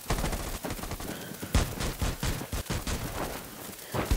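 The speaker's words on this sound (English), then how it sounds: "There's just a bunch of people shooting." Many players firing at once in Rules of Survival make a dense, chaotic spatter of gunshots, overlapping cracks and bursts at a moderate distance.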